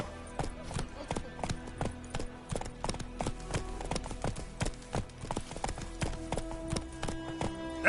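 A horse trots across ground in The Witcher 3 video game, its hooves clip-clopping in a quick, even rhythm that stays close and clear throughout.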